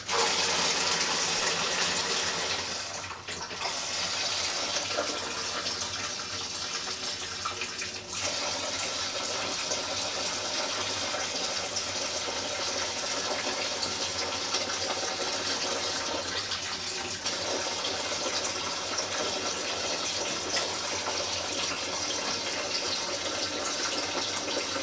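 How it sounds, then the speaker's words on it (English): Cold filtered water runs steadily through a siphon tube during homebrewing of an orange and blueberry wheat beer, a continuous close hiss and gush of flowing water lasting the whole stretch with only brief dips. "Get some filtered water into the tube to get the siphoning going."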